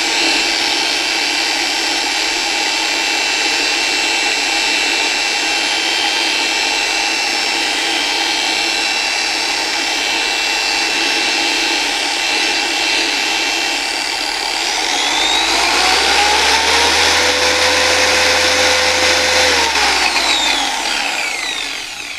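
An MJJC Pad Washer spins and cleans a polishing pad with a steady, loud mechanical whir, rising into a stronger, deeper motor roar for several seconds near the end before easing off.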